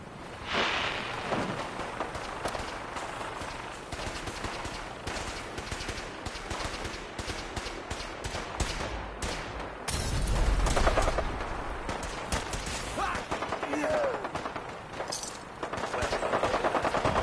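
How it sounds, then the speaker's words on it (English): Rapid bursts of gunfire from a firefight in the video game Fallout 4, sharp repeated shots layered with automatic fire and booms, loud and continuous throughout with no speech. "We go in shooting."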